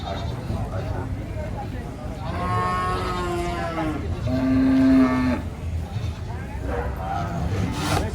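Cattle mooing near a livestock truck during unloading, two drawn-out loud lows, one after another, amid crowd noise and people talking.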